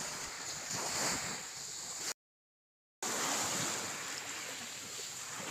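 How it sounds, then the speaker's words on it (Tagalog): Waves wash steadily over a shore of small stones with a rushing, gravelly sound and heavy wind buffeting, at Mainit Beach, Pasacao, Camarines Sur. A brief dropout of total silence interrupts it. "binidyoan ko muna po ang alon sa paghampas sa mga maliliit na batong yan"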